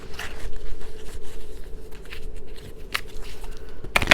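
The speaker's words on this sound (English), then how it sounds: "It said give it a big long shuffle, so we're gonna do that." Tarot cards being given a long shuffle during a live reading, a steady run of soft papery riffling and scraping with a few sharper flicks, fairly close and continuous, with a louder rustle at the very end.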